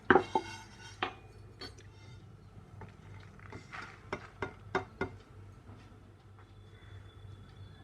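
Cumin and fenugreek seeds dry-roasting in a pan for Bihari mango pickle, heard as sharp metallic clinks and scrapes of a utensil against the pan, scattered and irregular over a quiet background.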